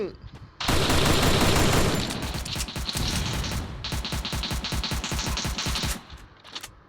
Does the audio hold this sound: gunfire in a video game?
yes